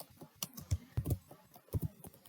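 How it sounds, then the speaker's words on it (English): Keys on a computer keyboard are tapped in quick irregular bursts, close and clear, while text is typed into a word processing document. "So when you will click here, you need to type here, like I'm typing here"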